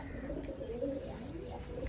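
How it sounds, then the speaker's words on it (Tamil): Pigeons cooing in a home loft housing around eleven birds, a steady run of soft, low, throaty coos close by with no talking. "இங்கே வந்துட்டு ஒரு 11 புறாஸுக்கிட்ட இருக்கும்"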